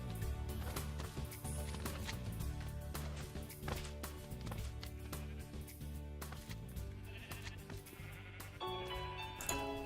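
Blocky Minecraft sheep bleat at a sheep farm in a busy survival world. The cries are mixed into a dense, continuous bed of game music and ambient sound for the full ten seconds.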